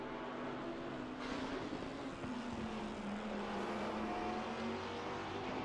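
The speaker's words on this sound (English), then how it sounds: "you always know when that Maserati's on track of Kerstetter" A Maserati GT race car engine on the track at Laguna Seca during a GT3/GT4 sprint race, a loud continuous drone whose pitch slowly shifts as the car runs, heard alone.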